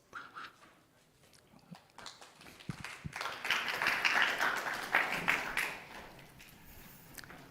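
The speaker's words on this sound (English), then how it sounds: "Ladies and gentlemen, round of applause." Audience clapping after a presenter is introduced at an architecture awards finale, starting sparse and building into moderate applause that tapers off, heard from within the room.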